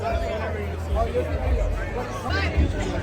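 Dense crowd hubbub at a packed Welcome To Rockville festival campground at night, a continuous wash of overlapping voices and chatter with occasional low thumps, steady and fairly loud throughout.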